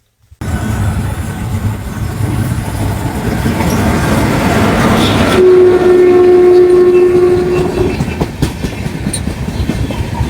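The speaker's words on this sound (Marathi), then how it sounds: "कोकण मध्ये मंडळीनं कोकण कन्या एक्सप्रेस होती" Konkan Kanya Express train rolling past in the Konkan region, a steady loud rumble and clatter of wagons with a long sustained horn blast midway, then continued passing noise.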